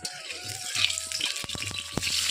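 Onions frying in hot oil in a kadai on a gas stove for dal: a steady, bright sizzle runs throughout, broken by a few sharp clicks and scrapes of stirring, with no voices.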